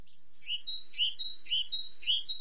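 Great tit calls, a repeated bright chirping phrase sounding four times at an even rhythm, clear and fairly close against a quiet background.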